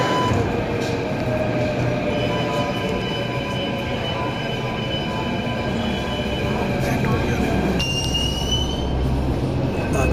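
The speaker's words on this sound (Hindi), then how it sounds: "पहुंचे हम मेट्रो स्टेशन।" A train rolls through a Delhi metro station, with a loud, continuous rumble of wheels on track and thin metallic squeals rising toward the end; no one speaks.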